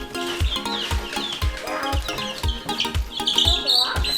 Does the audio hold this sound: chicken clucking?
yes